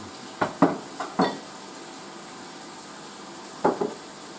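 Mushrooms in meat stock being stirred in a pan, a few sharp utensil scrapes and knocks in two short bursts over a faint background sizzle, no voices.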